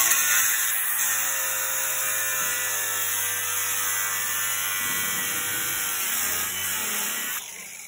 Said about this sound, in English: So we're gonna cut this out with a grinder and then begin to polish it out.